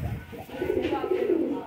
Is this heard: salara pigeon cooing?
yes